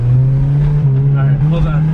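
A cheap beater car's engine revs hard and loud up close, a strong steady drone wavering slightly as the throttle is held, with voices talking over it.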